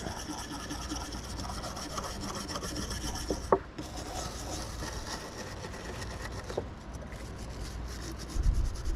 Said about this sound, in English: This is just a light wire brush. It's not scratching it.